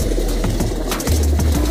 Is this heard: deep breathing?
no